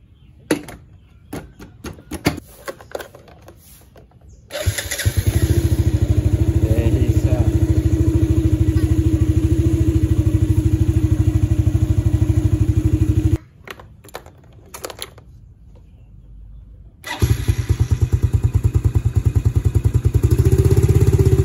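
A Yamaha Vega ZR motorcycle engine catches and runs loud and near for several seconds, cuts out, then fires again, with clattering handling noises and voices in between.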